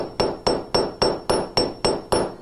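Steady hammer blows on steel against a bench block, flattening a roughly 3/8-inch piece into a paddle: eight sharp, ringing metallic strikes at an even pace, each with a brief high ring, loud and close with no talk.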